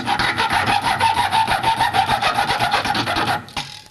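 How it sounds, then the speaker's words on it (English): A hacksaw cuts a V-shaped slot into a cog, steady rhythmic rasping back-and-forth strokes close and loud, ending with a brief pause and a couple of lighter strokes. "use the hacksaw again to make a V"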